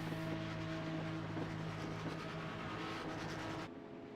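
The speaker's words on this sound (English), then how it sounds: "the new Porsche safety car rolls off the field" The Porsche safety car at an IndyCar race at Circuit of the Americas hums with a steady, droning engine tone at moderate distance, before the sound drops off near the end.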